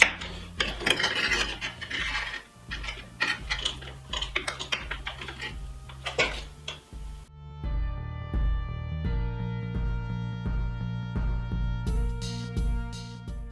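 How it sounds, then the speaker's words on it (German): A saw cuts threaded rod in a home workshop during a hobby mountain-bike frame build, giving rough rasping strokes in bursts for about seven seconds, followed by a ringing, tonal metallic hum with a few sharp clicks. "Jetzt schneiden wir uns auf der Säge die Gewindestange weiter zu"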